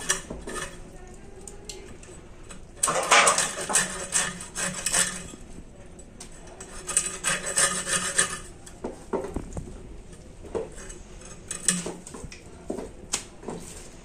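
A knife works through the tail section of a big fish, giving repeated close scraping and rasping cuts with bursts of blade-on-bone and board contact, busiest in the middle and trailing off into scattered strokes.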